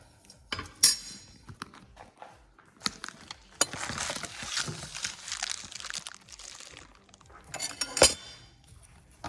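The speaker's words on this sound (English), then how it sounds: "let me go ahead and get my onion. I'm gonna go ahead and chop it up." Knife working through an onion on a cutting board while preparing Mexican chilaquiles, giving sharp, close clicks and crunchy cuts in irregular bursts, with a busier stretch of rapid chopping in the middle and no talking.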